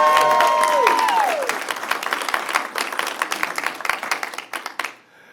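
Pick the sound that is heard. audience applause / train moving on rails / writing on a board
audience applause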